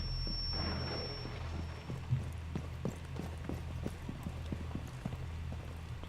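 Rapid rhythmic thudding footsteps of enemies in Rainbow Six Siege, a busy run of steps over a low hum in the game, fairly close and continuous.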